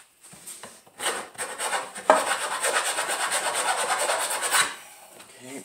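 Hand files rasp burrs off steel parts of an AR500 gong target hanging stand, a steady scraping of repeated strokes over several seconds, close and fairly loud, with no talking.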